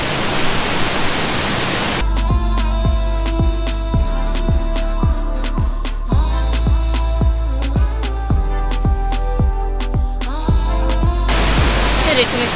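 A waterfall in Ratanakiri, Cambodia roars as loud, dense rushing water for a couple of seconds at the start and again at the end, with rhythmic music with a steady beat covering it in between.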